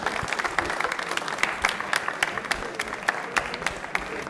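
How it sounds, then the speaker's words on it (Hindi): A studio audience at a Rajasthani televised quiz show bursts into steady applause after a contestant's correct answer, dense overlapping claps filling the room at close range with no talk over them. "तालियां बजा दीजिए"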